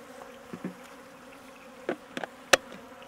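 Honey bees hum steadily around a hive while it is being fed syrup, with a low continuous drone and a few brief knocks and clatters from handling equipment up close.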